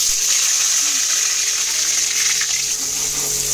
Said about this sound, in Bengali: আমি এখানে গরম হয়ে গেছে, বেগুনটা ফেলে দিলাম।